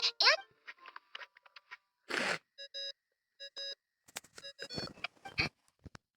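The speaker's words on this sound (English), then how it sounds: "I really hate that ringing tone" A phone ringing tone in Genshin Impact, several short electronic tonal bursts repeating in quick pairs and groups, clear but soft, mixed with brief game sound effects.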